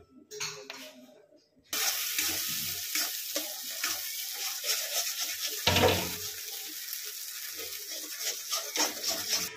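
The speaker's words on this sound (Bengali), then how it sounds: "এখানে সেদ্ধ মটরশুঁটিটাকে পেস্ট করে নিয়েছি, এটাকে এবার নেড়ে নেব।" Mashed boiled green pea paste frying in oil and ghee, a steady close hiss and crackle as it is stirred in the pan, with a brief clatter of the spoon partway through, following a short quiet start.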